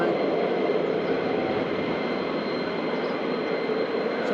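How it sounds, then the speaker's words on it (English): F-35 fighter jets flying at RAF Lakenheath produce a steady, loud, broadband engine roar that holds unbroken for several seconds, with no voices. "So we've got a few F-35s up"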